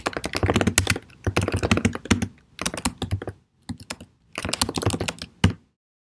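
Bursts of rapid typing on a computer keyboard, close and crisp, grouped into several runs separated by brief pauses, with no talking.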